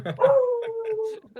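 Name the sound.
dog barking and howling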